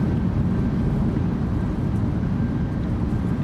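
A PMDG 737-800 landing in Microsoft Flight Simulator 2024 gives a loud, steady low roar from its thrust reversers, a broad rumbling rush that holds constant without a break.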